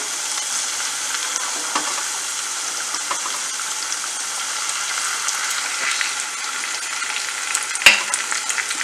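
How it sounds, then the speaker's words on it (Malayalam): Onion and tomato sauté in a hot pan for a Kerala-style mussel roast, giving a steady, close hiss of frying with a few faint stirring clicks and one sharp knock near the end, and no voices. "അപ്പൊ അതിലേക്ക് നമുക്കിനി തക്കാളി ഇട്ട് കൊടുക്കാം"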